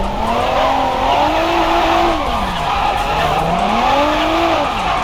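Engine of a high-horsepower car driven off road in a video game, a steady loud drone with rising and falling pitch sweeps as it revs and slides, with tire noise throughout and no talk.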